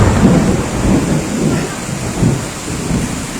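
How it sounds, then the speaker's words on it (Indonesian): Thunder rolls through a heavy rainstorm with strong wind in Makassar, low rumbles pulsing repeatedly beneath a loud, constant hiss of rain hitting surfaces nearby. "baru saja kilatan petir dan guntur kembali terjadi"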